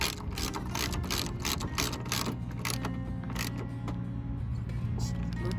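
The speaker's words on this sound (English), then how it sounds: "Now we can tighten up on the light itself." Headlight bolts being tightened on a Chrysler Town and Country, a steady run of quick ratcheting clicks and mechanical rattle close up, continuous and fairly loud with no talking.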